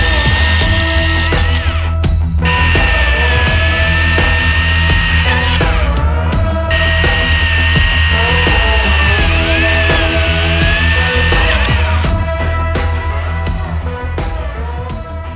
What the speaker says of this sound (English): I'm going to cut through this a handful of times, make the chainsaw work a bit harder